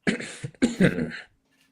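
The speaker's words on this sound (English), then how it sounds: "You hear this slight cough." A short cough, then a second throaty burst as someone clears their throat, close to the mic, followed by quiet.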